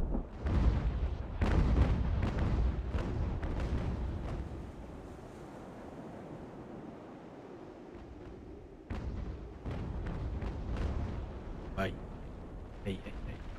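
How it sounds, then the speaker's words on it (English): Cannon fire and an explosion rumble through a naval battle in the game Ultimate Admiral: Age of Sail, a run of loud booming blasts, some near and some distant, under a voice talking. "I'm assuming it's the explosion because John Bart just all of a sudden lost its sails."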